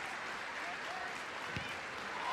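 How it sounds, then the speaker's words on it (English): Football stadium crowd at a women's league match applauding a tribute to a former manager, a steady distant roar of clapping from all around, faint and unbroken. "A round of applause there from all corners of the stadium in the 47th minute to pay tribute to former WSL manager Matt Beard."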